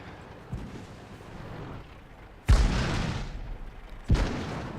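Tank cannon fire in World of Tanks during an IS-3 battle: two heavy booming shots with rumbling decay, separated by about two seconds, over a low continuous battle drone with a faint thump earlier.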